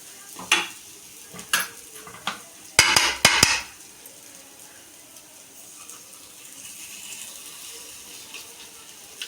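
Rava appe are turned one by one in an appe pan, giving a few sharp metallic clinks and scrapes, then a cluster of quick taps, followed by a soft sizzle of frying that carries on quietly.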